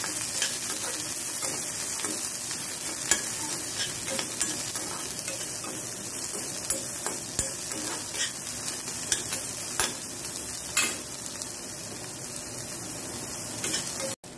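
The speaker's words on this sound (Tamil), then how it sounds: "வெங்காயம் வதங்கிச்சு." Onions sautéing in a pan for poori masala give off a continuous bright sizzle, with regular spatula scrapes and taps scattered throughout, close and steady, no voices.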